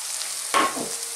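Ground turmeric, chili powder, cumin and coriander go into a hot pan of oil for an eggplant and tomato curry: a steady background sizzle, then a sudden brief burst of louder hissing that settles back to frying.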